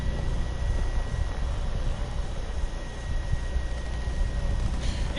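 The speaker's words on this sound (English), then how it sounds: "Counter recon is airborne. Engaging enemy aircraft." Enemy aircraft pass overhead in Call of Duty WW2, a steady loud engine drone and broadband roar lasting the whole stretch, with no talking.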